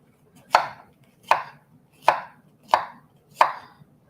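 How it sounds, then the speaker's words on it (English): A knife chops broccoli into small florets on a cutting board. Five crisp, evenly spaced chops come close up against a quiet background, with no one speaking. "So just cut them up in small florets because they'll cook real fast."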